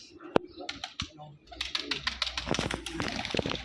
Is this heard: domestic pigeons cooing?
yes